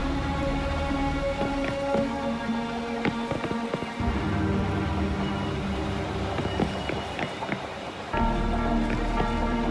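Steady rain falling in the video game Wuthering Waves, a dense continuous hiss with scattered drop patter, laid under background game music, fairly loud and constant throughout.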